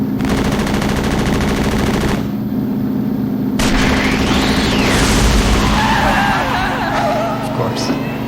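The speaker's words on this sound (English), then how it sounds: "Shots fired." Gunfire in the Back to the Future adventure video game, sharp shots and bursts layered over dense, loud game music and effects, with a voice talking over the action.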